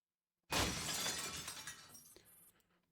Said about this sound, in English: Sound of something made of glass hitting the floor.